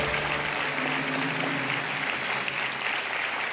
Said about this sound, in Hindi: और ये तालियां बजती रहनी चाहिए।